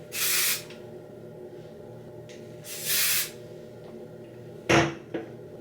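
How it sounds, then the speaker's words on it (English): Hairspray is sprayed onto a sew-in weave at home in two steady bursts of aerosol hiss, each about half a second long, followed by a short clatter. "Let me spray these since these ones didn't get any hairspray."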